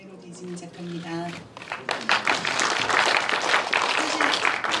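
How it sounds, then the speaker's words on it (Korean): Audience applause at a press launch event for a TV program, starting after a brief spoken introduction and swelling into a sustained, dense wash of clapping across the room. "박수 한번 부탁드립니다"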